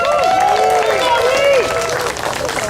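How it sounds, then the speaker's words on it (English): Audience applause greeting Ruth at a Mothers Against Deportation gathering, steady close clapping with a voice talking over it and tonal sounds running through, easing off near the end. "everyone give Ruth a round of applause"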